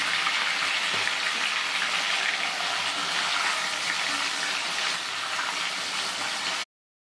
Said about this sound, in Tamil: எண்ணெய் நல்லா காஞ்சிக்கிச்சு. இதில் நம்ம காலிஃப்ளவரை போடுறோங்க.